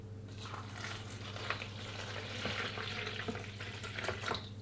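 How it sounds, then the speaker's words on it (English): Lukewarm water is poured into a gluten-free bread dough mix, giving a steady, quiet splashing trickle over a low background hum for several seconds. "Now you add the water."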